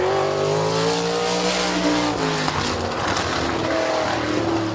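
Race cars roaring off at a green-flag start at Midvale Speedway, a dense, loud engine drone with rising harmonic sweeps as the pack accelerates, steady and close throughout with no talking.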